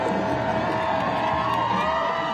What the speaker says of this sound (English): The roads lined with crowds cheering their return.